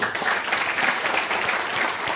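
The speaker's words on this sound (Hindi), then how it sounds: "माननीय ओपी शर्मा से एक बार जोरदार तालियां" Loud, dense applause from an audience cheering a guest, a former Rajasthan government joint director, at an RCM business event, many hands clapping steadily and close for the whole stretch.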